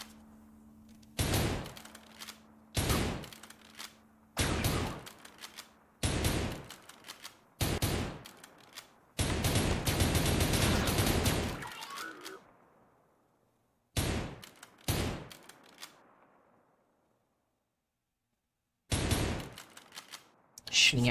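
Gunfire shooting at enemies in a video game, a series of short sharp bursts at regular intervals plus one longer sustained stream of shots, separated by near-silent gaps, with some faint talk.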